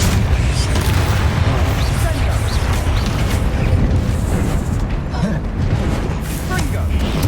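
A Confringo spell blast in Hogwarts Legacy during a fight with a troll, a loud dense rumbling boom and crackle filling the whole stretch with game effects layered over it.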